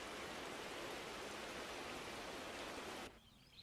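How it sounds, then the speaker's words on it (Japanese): Steady rain falls on the African savanna at the start of the rainy season, a dense, even hiss that cuts off abruptly near the end. "アフリカの大草原に1年に数回訪れる雨の季節の始まりです。"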